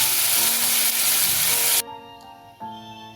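Prawns frying in a wok make a close, bright sizzle for a couple of seconds, then it cuts off abruptly, leaving quieter sustained tones.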